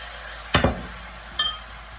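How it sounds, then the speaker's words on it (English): Glaze added to crispy cooked tofu in a pan: a short clattering pour and scrape, then a second lighter clink a moment later, close and loud with nobody speaking. "now that the tofu is cooked and crispy, I am going to add the glaze to the pan"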